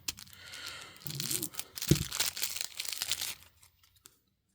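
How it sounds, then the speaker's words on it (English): Plastic packaging around a new gasket for a Jaguar XJS V12 auxiliary air valve crinkles and tears in a few short rips and rustles up close, then falls silent. "we're going to need our new gasket, which we'll take out of its packaging"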